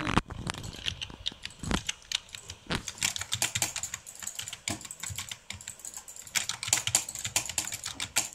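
Rapid typing on a gaming keyboard, close up with a dense stream of crisp key clicks and occasional heavier thumps, continuing for the whole stretch without speech.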